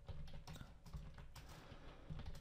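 Keys clatter on a computer keyboard while a search term is typed into a browser search bar, quick irregular taps close up and moderately quiet.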